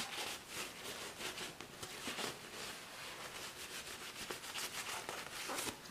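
A cleaner-soaked pad wipes the sticky layer off a semi-permanent varnished fingernail, giving faint, quick rubbing strokes repeated in a close, even rhythm.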